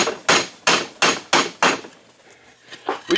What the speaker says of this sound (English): We just use a bigger hammer.